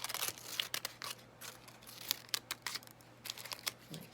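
Scissors snip small cuts into paper to shape a craft flower, short crisp cuts and light paper rustles coming close and quiet in an irregular rhythm.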